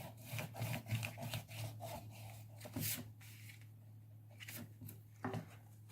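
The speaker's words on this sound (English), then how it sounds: "Give that a good burnish." Rhythmic rubbing strokes as a surface is burnished by hand, quiet close scraping passes in irregular bursts with short pauses, no voices.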